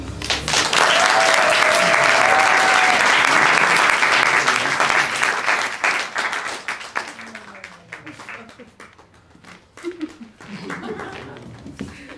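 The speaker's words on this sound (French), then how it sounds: "Dernière sauce sous vos applaudissements," Loud audience applause at an improv comedy show during a festival, dense clapping for several seconds that thins out and fades, with scattered claps and voices talking afterward.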